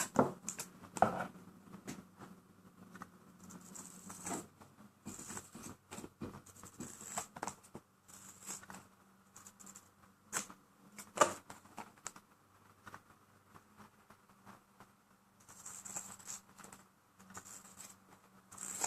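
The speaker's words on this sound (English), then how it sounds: "Now I'm going to cut it. And you just cut right against the line." Scissors or a blade cutting duct tape along a marked line while making a duct tape wallet, soft intermittent snips and crinkly tape rustles scattered irregularly throughout, close and quiet with no talk.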